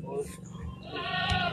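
On a goat farm where kids are nursing, a goat gives a loud, wavering bleat close by, with someone talking over the animal noise.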